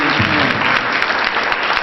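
Audience applause for Willie and Pam at a Black and Gold Idol 2010 talent show, a dense, steady burst of many hands clapping that fills the whole moment, loud and close.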